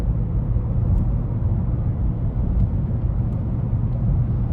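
An Opel Astra K 1.6 CDTI automatic cruises at highway speed, filling the cabin with a constant low engine and road rumble and steady broadband wind noise, with no talk.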